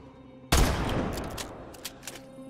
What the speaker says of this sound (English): You are shooting.